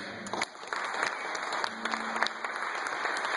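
Audience applause, a dense burst of clapping from a crowd that holds steady at a lively level throughout.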